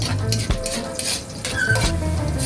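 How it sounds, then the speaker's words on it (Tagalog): Garlic sautés in cooking oil in a pan while a utensil stirs it, loud metallic scrapes and clinks over a light sizzle. "Igisa natin ang ating bawang at ating mekos-mekos"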